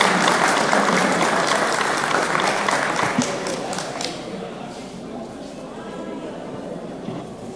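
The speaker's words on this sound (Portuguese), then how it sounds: "Peço uma salva de palmas para todos." Audience applause fills a congress hall of the FTG-PC, loud and sustained at first and then gradually thinning toward a softer patter with scattered claps, with a crowd murmur underneath.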